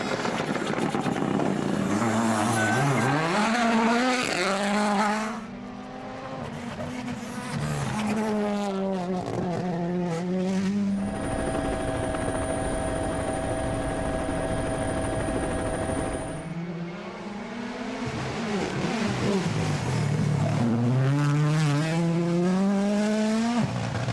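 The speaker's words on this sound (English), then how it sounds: "Okay, got the BMW cruising through." A BMW rally car at the WRC Croatia Rally 2023 tears along a mountain stage, its engine loud and close, revving hard with pitch climbing through repeated gear changes. Midway the roar gives way to a steady droning hum before the revs return.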